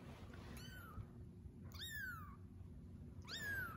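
A kitten meows three times in clear, separate rising-and-falling cries over a low steady background hum, with no talking.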